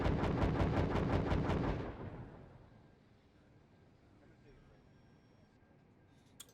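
Rapid rippling salvo of Katyusha rockets in a Steel Division 2 battle, dense repeated launches for about two seconds, then a fading rumble and quiet background.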